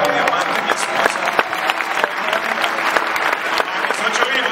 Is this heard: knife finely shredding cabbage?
no